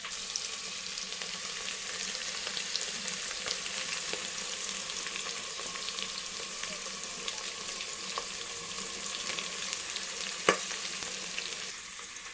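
Chopped onions sauté in a pan with a steady, faint sizzle and crackle, joined by occasional soft stirring scrapes and one sharp clink near the end, with no voices.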